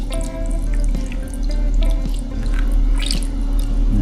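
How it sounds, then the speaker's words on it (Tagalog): A little water runs from a tap into a cooking pot holding vinegar, oil, salt and pepper, a close, steady splashing trickle that fills the whole moment with no talking. "Nalagyan pala natin to ng konting-konting tubig lang"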